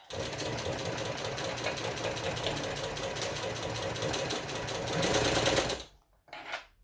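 A sewing machine stitches fabric in a fast, steady mechanical chatter that runs for several seconds, rises briefly, stops, then gives one short final burst of stitching.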